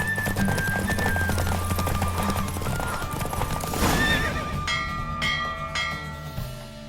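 Rapid clip-clop of galloping hooves with loud horse whinnies in a horse race in The Witcher 3, over a busy, music-filled background, ending in a few bell-like chimes.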